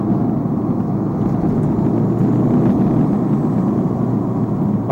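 A Subaru Impreza engine drones loudly and steadily from inside the car as the turbo kicks in, a continuous low roar with no breaks or voices.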